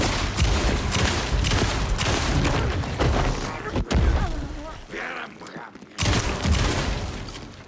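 Gunfire in the video game Alan Wake 2 comes as loud, rapid bursts of shots with booming hits. The shooting runs almost the whole time, with a short break and then more shots.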